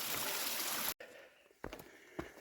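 A mountain stream flowing beside a hiking trail gives a close, dense rushing hiss for about a second before cutting off, followed by a few sharp clicks and knocks in the quiet.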